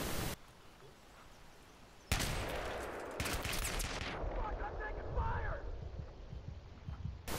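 An MK3A1 shotgun firing FRAG rounds in Battlefield 3 sounds in a few sharp, loud blasts with explosive impacts, separated by quieter stretches of game ambience.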